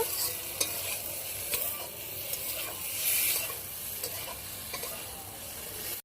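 Fried cauliflower being stirred and sautéed with spice masala in a pan, a steady close sizzle with scraping spoon strokes throughout, no voices.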